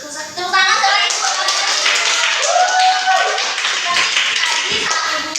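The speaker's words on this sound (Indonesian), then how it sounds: "Tepuk tangan sama Ibu." At a training workshop, a room of attendees claps together in a loud, close burst of hand claps, with some voices and chatter mixed in.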